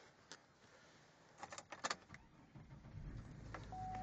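A 2003 Chevrolet Trailblazer starts up after a few faint clicks and jingles inside the cabin, the engine cranking and settling into a low idle at the end, quiet overall.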